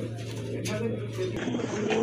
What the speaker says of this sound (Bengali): আজকে কিন্তু আনকমন কবুতরের বিশাল সমাহার